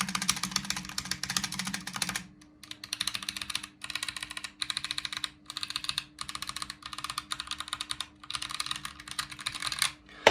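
Rapid typing on a mechanical keyboard with linear switches, soft, muted keystrokes clattering in quick bursts separated by short pauses, close up with no voices.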